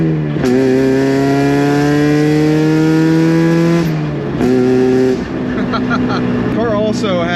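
A Mazda MX-5 Miata's exhaust with Valvetronic Designs valves open revs loudly and close, its rising harmonic engine tone held, dropping, then climbing again into a brief rev.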